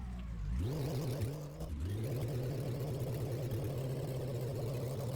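A modded car's engine in a driving video game revs hard while drifting. The pitch climbs, drops briefly, then holds as a loud, steady, buzzing drone with no talking.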